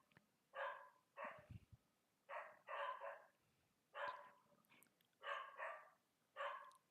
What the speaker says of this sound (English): The village dogs are relentless